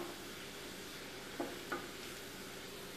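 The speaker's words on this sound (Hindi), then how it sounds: "ये बारीक कटा हुआ लहसुन है, ये हम इसके अंदर डालेंगे। इसको हल्का ब्राउन होने देंगे।" Finely chopped garlic sizzles steadily in hot oil for Amritsari pindi chole, a close, even frying hiss with two brief stirring clinks partway through.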